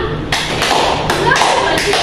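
A class of students in an Indonesian classroom claps together in a counted group pattern. Several loud, sharp claps come at roughly even intervals, close and full, over a busy room background with voices.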